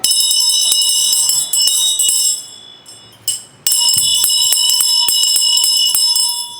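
A bell of the kind called a maraca in Bahia rings loudly and up close, shaken in rapid bright strikes with a short pause midway before the ringing resumes.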